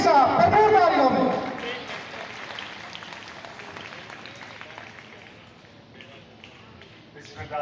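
Applause at an orphanage ceremony hosted by the Anjuman Himayat-e-Islam, attended by the Punjab governor. Loud clapping from a crowd opens the clip, then fades under a speaker's amplified voice that continues over a reverberant hall.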